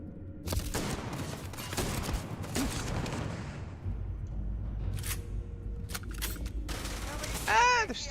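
Gunfire in Starfield: Shattered Space, played in NG+, with a dense rattle of automatic shots over the first half, later scattered bursts and a short whooshing tail near the end, loud and close.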